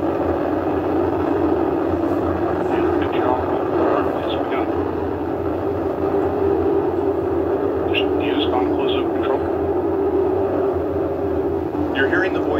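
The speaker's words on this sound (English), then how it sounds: "we have liftoff of the United Launch Alliance Atlas V rocket carrying Echo Star" A United Launch Alliance Atlas V rocket carrying EchoStar 19 lifts off with a steady, dense roar that rumbles without a break from start to finish, with faint traces of voices over it.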